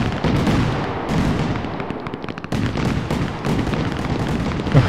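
Dense, continuous crackling and booming explosions fill the clip, a loud barrage of fireworks blasts in a fireworks simulator video game with no pauses.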